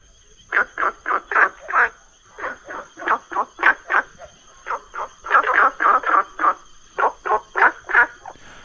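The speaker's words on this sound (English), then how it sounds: "this is a type of frog that is difficult to spot" Frogs call from around a quiet village on Cat Ba, Vietnam, after recent rain, a chorus of loud, rapid pulsed croaks in repeated bursts with short gaps, close and clear over a faint steady insect-like hum.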